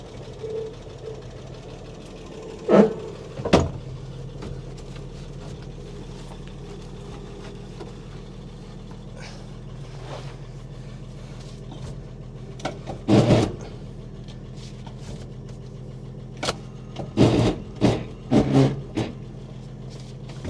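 A 1961 Chevy Biscayne that sat in a junkyard for over 30 years idles with a steady low rumble, broken by several sharp knocking bursts and clunks as it is started and revved.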